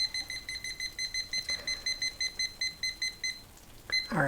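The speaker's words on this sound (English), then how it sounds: "So let me just set a timer." A kitchen timer emits rapid, evenly spaced electronic beeps in quick rhythmic bursts for several seconds, close and moderately loud, then stops abruptly in a quiet kitchen.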